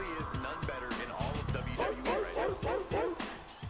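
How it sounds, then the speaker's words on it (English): A dog barks in a quick string of yips and bow-wows on a live wrestling-game stream, the barks loud and close, with people talking over and between them. "All rise for the dog noise."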